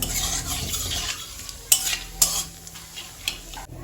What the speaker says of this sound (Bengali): এবারে আমি ফোড়নে দিয়ে দিচ্ছি গোটা জিরে একটা শুকনো লঙ্কা আর তেজপাতা